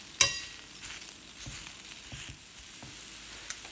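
Tomatoes and tomatillos cooking in a pan for Oaxacan mole, a soft continuous sizzle with scattered small pops and crackles, fairly quiet and close, with no talking.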